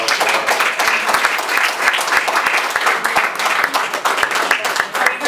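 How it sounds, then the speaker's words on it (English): An audience at a board of education meeting applauds, with dense, steady clapping that holds without a break from start to finish. "so let's give her a round of applause."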